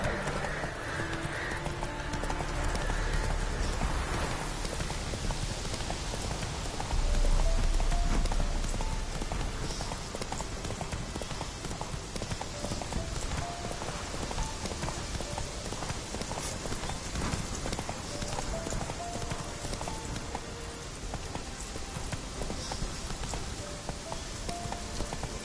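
Horse hooves clip-clop steadily in a PS4 video game while rain falls, a moderate, continuous rhythmic patter over a dense wash of game ambience with no speech.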